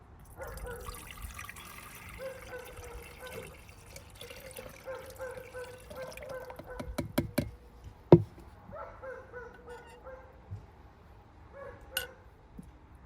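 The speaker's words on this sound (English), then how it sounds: "Okay, we're gonna give this a good rinse." Water runs and splashes while e-waste gold recovery material from RAM chips is rinsed, with intermittent trickling, a few sharp knocks of containers, and quiet background sounds.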